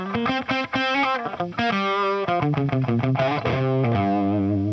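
Distorted electric guitar through an amp with a rolled-off tone, playing a quick melodic riff of sustained and picked notes with a warm, crunchy tone.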